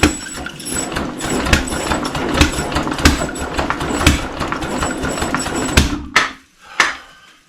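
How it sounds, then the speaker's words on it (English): A rough, sputtering 1935 Austin 7 engine runs with loud irregular pops and bangs from the exhaust, then stumbles and cuts out in a few last sharp bursts. "Sounds as if it's firing in the exhaust, doesn't it?"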